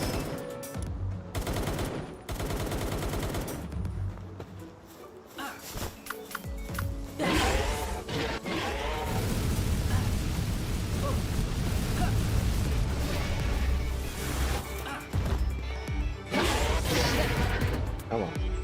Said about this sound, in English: That rocket launcher.